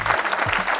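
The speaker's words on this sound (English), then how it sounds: "let's give him a round of applause for that" A brief burst of audience clapping at a Houston business talk show event, a dense patter of many hands heard alone for under a second.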